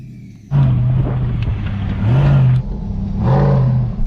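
A huge Hennessey Mammoth truck drives off-road, its engine droning close and loud, rising and falling in revs across several surges.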